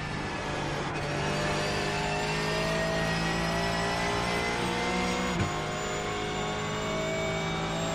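A GT3 race car engine in the iRacing simulator drones with a high, steady whine at sustained revs, with a brief dip like a gear change partway through. No one speaks over it.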